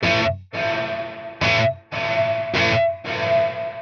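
Guitar notes run through a reverb set to a 500 ms pre-delay, played as repeated strummed bursts with short gaps, each ringing out full and bright before the next, close and loud.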